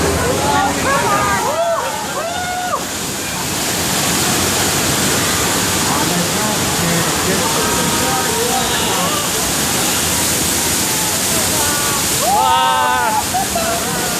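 Loud rushing, splashing water pours down onto ride passengers at Universal Studios Hollywood while people shout and scream excitedly over it.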